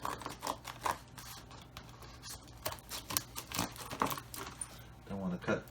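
Several crisp snipping clicks from scissors cutting a GPU riser cable close by, scattered irregularly with quiet handling noises between them.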